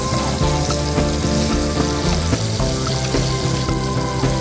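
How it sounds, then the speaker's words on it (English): Butter stirred into browning sugar syrup makes a dense, continuous bubbling sizzle with faint stirring clicks, steady and close throughout. "Then, add a stick of butter, stirring until smooth."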